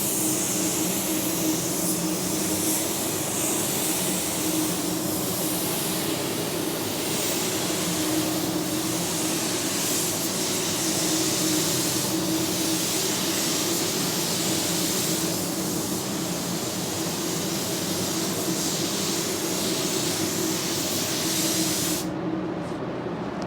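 A spray gun lays a control coat of paint onto the face of a new car door: one steady, loud, unbroken hiss that cuts off right at the end.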